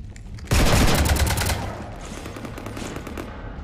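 Sustained rapid gunfire rakes a ship in Mass Effect 3, a dense loud burst of shots lasting about a second before easing into a lower rumbling, crackling tail.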